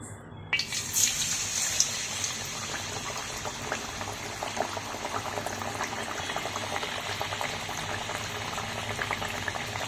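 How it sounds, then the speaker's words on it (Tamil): Pepper vada sizzle and bubble as they fry in hot oil, a steady, close, loud crackling hiss that begins abruptly and continues without pause. "இப்போ நம்ம ஒவ்வொரு வடையாக தட்டி எண்ணெயில் போட்டு பொறிச்சு எடுத்துடலாம்"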